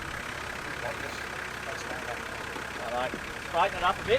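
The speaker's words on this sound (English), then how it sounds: "Start the car, buddy." A car engine runs at a low, steady idle during a scenic drive, a quiet hum under a voice giving driving instructions.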